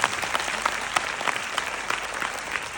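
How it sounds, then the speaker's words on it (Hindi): A crowd at a direct-selling business seminar bursts into applause, sustained many-handed clapping with some individual sharp claps popping out, moderately loud and steady without speech. "ताली बनती है तो"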